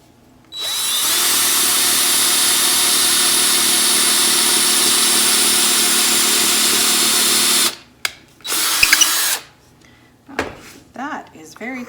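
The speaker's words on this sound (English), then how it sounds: "So I'm going to pre-drill my hole." A power drill pre-drills a hole into a thick wooden cutting board, running loud and steady for about seven seconds before stopping, then a short second burst and a few clicks and handling noises follow.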